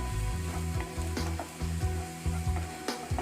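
A spoon works dried herbs, cayenne or red chili powder and black pepper around a sizzling pan for chicken lasagna, with steady frying hiss and a rhythmic series of soft scraping strokes, close and alone.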